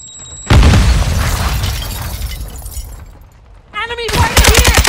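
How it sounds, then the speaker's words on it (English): A Semtex grenade detonating in Call of Duty Modern Warfare 2 during a team deathmatch, a sudden loud blast with a crackling, shattering tail that fades, followed by gunfire and a shouted voice. "Throwing Semtex!"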